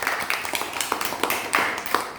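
Schoolchildren in a classroom clap together in a burst of quick, uneven hand claps that run steadily from start to finish, with a few stronger claps standing out.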